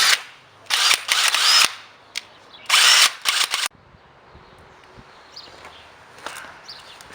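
A powerful cordless impact wrench loosens wheel nuts in two loud bursts of rapid hammering, each lasting about a second, followed by quieter shuffling and handling sounds.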